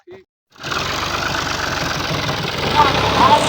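A tractor loaded with wood, stuck on soft village ground, idles with a steady, rumbling drone that starts abruptly after a short pause and holds close and loud, swelling slightly toward the end.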